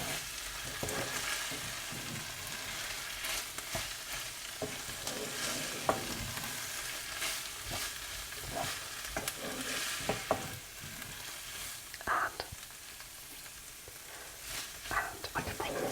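A spoon scrapes and stirs shepherd's pie filling in a pan with a soft, steady sizzle, the strokes repeating close by with occasional sharper clinks.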